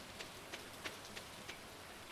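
Steady rain in the Stardew Valley video game, a faint soft hiss with light patter and small ticking drops recurring about every third of a second, with no voices.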